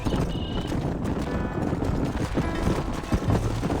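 Hooves from a herd of horses in the video game Red Dead Redemption make a dense, continuous clip-clop at a steady trotting pace, close and fairly loud, with no voices.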